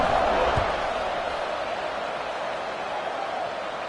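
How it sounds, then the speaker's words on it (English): Stadium crowd in the NCAA 26 college football video game, a steady dense roar of buzzing fans after a score, loud and continuous throughout, with one brief thump early on. "this crowd is buzzing after that last score."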